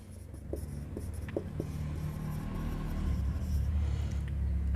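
Chalk or marker writing on a board during an accounts class: short scratchy strokes and taps ticking along steadily against a constant low room hum, with no talking over them.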